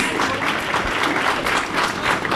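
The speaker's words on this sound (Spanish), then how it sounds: "Fuerte el aplauso" Steady applause from a crowd at an opening ceremony in Esquel, Argentina, dense and sustained for a couple of seconds, with a faint voice underneath.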